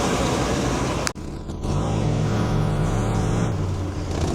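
A Workhorse vehicle engine idling after starting, a loud steady low rumble with a brief dip partway through, heard close and with no one talking.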